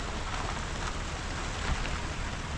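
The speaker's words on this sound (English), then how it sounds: "It is dumping rain right now" Heavy rain dumping down during a summer storm in the San Juans: a dense, steady hiss of pouring water with constant spatter and no pauses, moderately loud and without voices.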